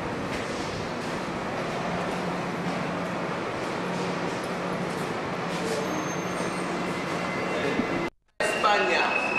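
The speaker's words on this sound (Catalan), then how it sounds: "The New York Metro." A New York subway train rumbling steadily with a constant loud roar and rattle, heard from inside or on the platform, with people talking beneath it, then a brief cut near the end.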